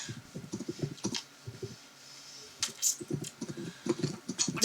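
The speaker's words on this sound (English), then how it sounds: "He's typing." Someone types quickly on a computer keyboard close to a microphone, with bursts of rapid clicking separated by short pauses and a few sharper taps.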